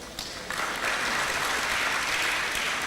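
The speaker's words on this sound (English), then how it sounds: "Please let's clap for him very well" An audience at a university faculty ceremony applauds a dean with steady, dense clapping that swells after a moment and continues evenly at a moderate distance, with no voices over it.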